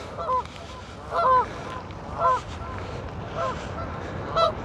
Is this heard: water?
no